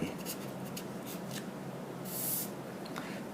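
A pen writes on paper as words are jotted down while working through an exam question, with soft scratchy strokes in short irregular bursts, close and quiet against a low background hiss.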